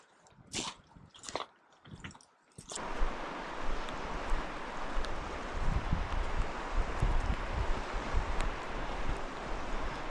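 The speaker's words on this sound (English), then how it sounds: "River's pretty loud here." A loud river rushes steadily nearby in remote Gwich'in Nation wilderness, a constant broadband roar that swells in after a few seconds of quieter rustling and wind.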